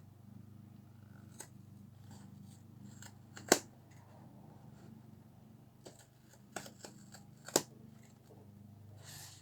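Scissors cut through the plastic packaging of a new screwdriver shaped like a power driver, giving a few sharp snips and crinkles at a close, quiet level, with two louder cuts standing out.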